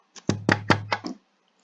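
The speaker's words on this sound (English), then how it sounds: "Finally, I knocked and called out" Five sharp knocks on a door, part of a visual novel, land in a quick, fairly even run, loud and close, with no voices over them.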